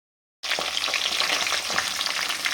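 Fish heads fry in a pan with a bright, steady sizzle and crackle that starts abruptly and continues close and loud, with no talking.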